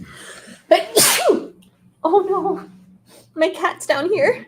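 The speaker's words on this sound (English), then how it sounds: "Did you just sneeze on her" One sharp sneeze bursts out near an indoor cat, loud and close, set between stretches of someone talking.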